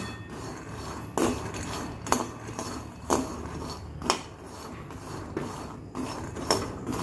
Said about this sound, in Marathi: एक वाटी शेंगदाणे घेतले आहेत मी व्यवस्थित असे भाजून घ्यायचे